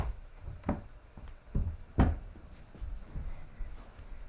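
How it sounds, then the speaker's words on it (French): A chair pushed aside on the floor gives a few soft knocks and scrapes, one sharper bump in the middle, fairly faint against a quiet room with no speech. "Je tasse ma chaise."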